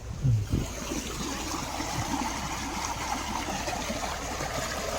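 A flooded creek, normally very small, rushes and churns with a steady broadband wash of moving water, close and continuous, with a brief low thump near the start and no talking.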